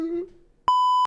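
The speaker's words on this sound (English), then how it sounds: "A beep before saying holy fuck." A flat, steady censor beep tone lasts about a third of a second, cutting in sharply right after a brief bit of speech at the start.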